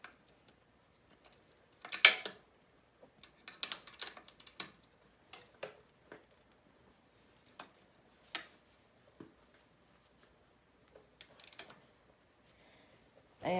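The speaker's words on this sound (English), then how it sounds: "get my ratcheting wrench" A ratcheting wrench turns a crusty bolt on the shock mount of a 2005 Honda CRF70F, giving faint, sparse clicks and short ratchet bursts scattered through a quiet workshop.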